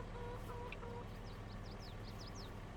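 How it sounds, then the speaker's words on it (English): Chickens clucking at feeding time as alfalfa is shoveled in on an Iowa farm, scattered short clucks and squawks over a constant low background hum, fairly faint and with no talking. "So that's how I'm feeding the chickens now."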